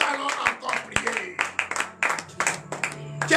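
A church congregation at a Monday morning prayer service in Benin claps steadily in rapid, uneven bursts, with voices shouting and talking over the applause.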